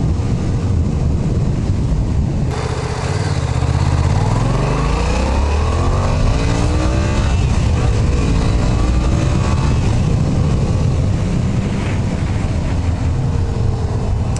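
A Yamaha FZ-07 motorcycle ridden at night through West Los Angeles traffic, its engine droning loud and steady with rising and falling revs as the bike accelerates and shifts, under constant wind rush.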